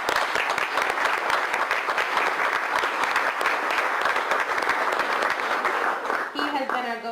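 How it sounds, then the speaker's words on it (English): An audience at a Fall River neighborhood association event claps steadily and loudly for several seconds, dense and continuous, with a voice starting to speak over it near the end. "while you all just gave him a round of applause, I think Aaron deserves a big round of appla"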